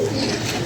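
A pigeon coos close by, a brief loud low murmuring call with no other sound.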